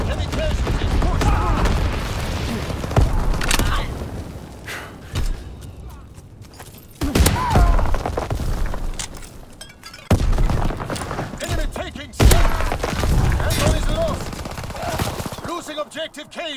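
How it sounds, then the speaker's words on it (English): Incendiary bombs bursting amid heavy battle gunfire in Call of Duty WWII, dense rumbling blasts and rattling shots in repeated loud waves, with voices talking through the chaos. "Enemy bomber. Incendiary bombs incoming."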